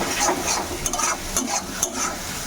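Taro stolon curry sizzling in a wok over a high gas flame, stirred continuously with a spatula that scrapes and clinks against the metal in quick repeated strokes, close and moderately loud.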